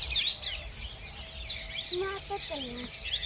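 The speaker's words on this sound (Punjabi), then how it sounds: "ਇਹ ਪੰਛੀ ਚੀਕ ਰਹੇ ਨੇ ਜੀ" Several birds call outdoors: a run of short, pitched chirps and squawks stands out over a steady layer of high twittering and a soft background murmur.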